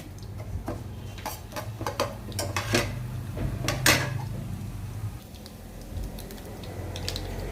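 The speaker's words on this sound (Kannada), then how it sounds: "ಈಗ ನೋಡಿ, ಸಾಸಿವೆ ಜೀರಿಗೆ ಎಲ್ಲ ಸಿಡಿದಿವೆ." Mustard and cumin seeds spluttering in about four spoons of hot oil for a gooseberry chitranna rice dish, giving sharp, irregular popping crackles over a low steady hum, close up and without speech.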